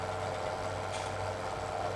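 A Fendt 700 Vario tractor in Farming Simulator runs at a steady idle, its exhaust giving a continuous low, even rumble with a faint mid-range drone and no speech.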